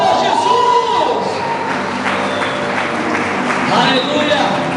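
A church congregation cheers and claps in joy, a dense wash of applause and shouting under a preacher's loud voice throughout.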